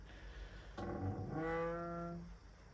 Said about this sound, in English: Sorry about the noise of the chair, like the stool